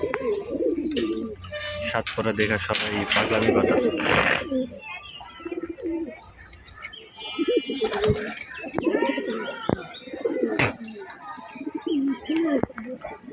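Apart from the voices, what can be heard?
pigeons cooing in loft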